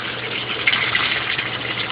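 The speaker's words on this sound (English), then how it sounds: "That there is from the overflow from the floating rafts." Overflow water from an aquaponics floating raft bed pours out in a steady, nearby gushing trickle, continuous with slight surges and no voices.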